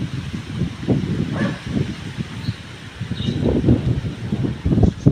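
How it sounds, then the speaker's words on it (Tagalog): Strong, cold wind gusts outdoors under a darkening sky just before rain, buffeting the microphone in uneven low rumbling surges that swell and ease throughout, with a faint rustle beneath. "Sobrang lakas ng hangin."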